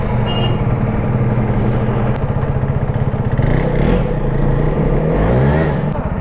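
A KTM Duke 390 motorcycle fitted with a new Apollo Alpha H1 150/60 R17 tyre idles and revs loudly up close, its throbbing single-cylinder engine steady and continuous for several seconds.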